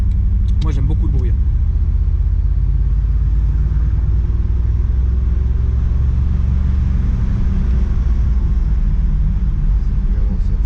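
A deep, steady engine rumble from an old American car fills the whole stretch, loud and close, with people talking over it.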